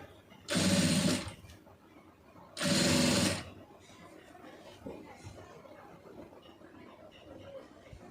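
Domestic sewing machine stitching piping onto a neck design, running in two loud bursts of about a second each with a quiet workroom between them.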